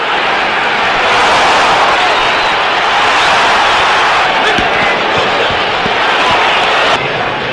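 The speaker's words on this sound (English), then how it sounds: "The crowd is in a bedlam." A boxing crowd roars at a Jerry Quarry fight against Norton, a loud, dense and sustained din that fills the space, with a few sharp thuds and bangs poking through near the end.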